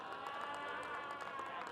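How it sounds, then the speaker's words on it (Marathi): Spectators at a Lalbaug Premier League cricket match applaud in a steady, continuous wash of clapping and crowd noise, moderately distant and fairly quiet throughout. "टाळ्यांचा गजर होते."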